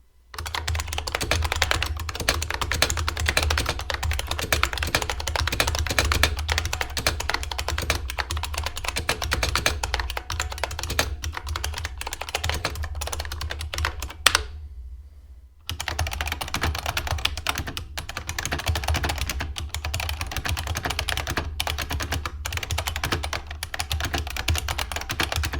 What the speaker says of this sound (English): the IBM Model M keyboard has a distinct metallic sound